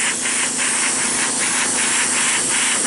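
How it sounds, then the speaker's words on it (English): Airbrush spraying brown weathering paint onto an HO scale B&O C27A caboose model, a continuous close hiss with a faint rhythmic pulsing throughout. "So I'm just going to be spraying all this together like this to get the correct color."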